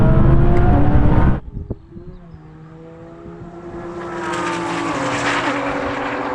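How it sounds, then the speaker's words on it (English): A 900hp Porsche 911 Turbo S, a 1000hp Audi R8 and a 1000hp R35 GTR race from a rolling start in third gear. A loud engine roar cuts off abruptly, then climbs back as a rising, building acceleration whine. "Now we have a rolling race, once again from 50 miles an hour. Third gear, manual mode, sportiest settings."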